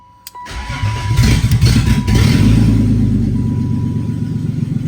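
A BMW E36 turned with the key: a short starter crank catches, and the engine fires and settles into a loud, close, rumbling idle that keeps running steadily.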